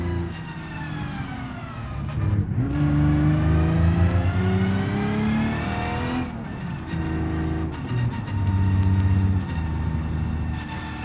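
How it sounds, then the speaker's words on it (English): A car engine in the BeamNG driving game held at full throttle in a low gear, rising loud and sustained in pitch, dipping at gear changes, then climbing again with no talk over it. "That's full throttle right now."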